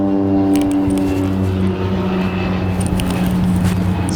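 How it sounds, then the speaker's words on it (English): A small airplane drones overhead with a steady, loud, humming engine tone that holds throughout, near and without talk. "It's a little airplane."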